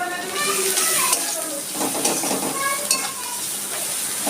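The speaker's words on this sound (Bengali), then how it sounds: "পেঁয়াজটা একটু লাল লাল করে ভেজে নিচ্ছি।" Onions seasoned with salt and turmeric fry in a pan, making a dense close sizzle with stirring scrapes, while a voice talks quietly underneath.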